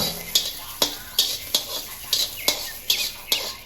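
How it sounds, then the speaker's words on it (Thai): Chinese garlic is dry-roasted in a pan for a Thai chili dip. Crisp scraping stirs repeat in a steady rhythm, roughly every half second, over a light sizzle. "ตามด้วยกระเทียมจีนนะครับ ใส่ลงไปคั่ว"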